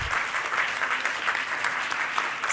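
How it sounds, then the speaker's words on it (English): A crowd claps steadily and densely for people being welcomed onto the stage at a public health forum event, with sustained applause filling the hall without a break. "please welcome them onto the stage with a warm, warm, warm round of applause"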